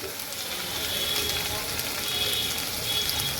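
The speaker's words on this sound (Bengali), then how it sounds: "আমি এখন এর মধ্যে দিয়ে দেব সেদ্ধ করা আলু আলুটাকেও আমি ভাজবো" Boiled potatoes and cauliflower fry in a pan, making a dense, steady hiss of sizzling oil that stays close and even throughout, without speech.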